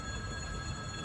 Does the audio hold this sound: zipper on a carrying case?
no